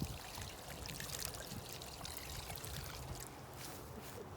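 Liquid fertilizer pours steadily from a container onto vegetable seedlings in a container garden, a continuous close splashing trickle that holds for several seconds without talk.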